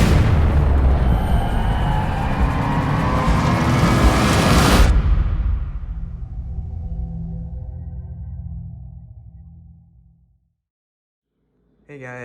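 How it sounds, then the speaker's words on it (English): Winda Echo in the Ear 5-inch canister firework shells go off at a lake, a roaring blast that dominates for several seconds. The boom then decays into a long, fading rumble and echo before a moment of silence. "These are the Echo in the Ear 5-inch canister shells by Winda fireworks."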